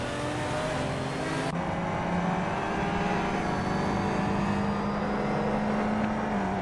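Race cars at the start at Autopolis in a video game, with a classic 1993 BMW leading, engines roaring loud and close, revving and shifting with rising pitch sweeps through the pack, no voices.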